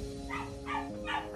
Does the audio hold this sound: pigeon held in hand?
no